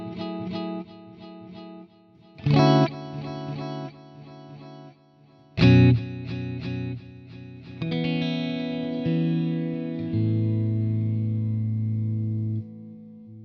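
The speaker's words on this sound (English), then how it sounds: "you'll hear a nice 50-50 blend of my dry guitar and the circular delay effect" Electric guitar through a CorOS circular delay pedal at a 50% dry/wet mix: sustained chords with two sharp strummed attacks, shimmering repeats swirling and trailing behind each, ending in a long ringing wash, played alone.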